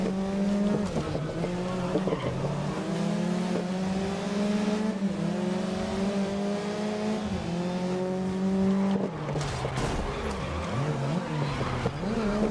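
Race cars roar through Paris city streets in GRID, engines revving up and shifting through gears with tire squeal and a car passing, loud and close for the whole stretch.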